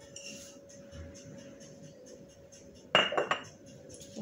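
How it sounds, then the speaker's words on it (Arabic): Almonds are tipped into a bowl of oat cookie dough, a short cluster of sharp clinks and rattles against the bowl in a quiet kitchen with a faint steady hum. "نزيدو داك اللوز ديالنا"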